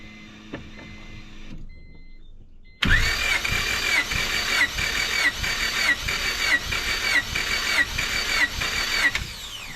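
A turbocharged Honda Civic engine cranks over during a compression test: after a near-silent pause the starter kicks in abruptly and the engine churns in a fast, even rhythm of repeated compression pulses until the end.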